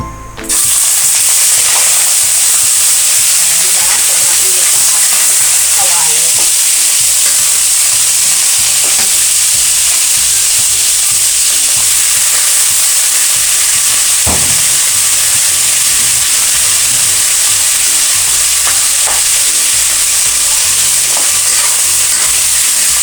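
Ingredients sautéing in a hot pan for a thrifty Filipino home dish, heard as a constant loud sizzle with bright hissing and occasional soft scrapes and taps of stirring, close up and without voices.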